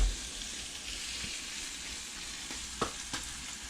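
Thick-cut slices of French toast sizzle steadily in a hot pan, a close continuous frying hiss broken by a couple of faint clicks of utensils.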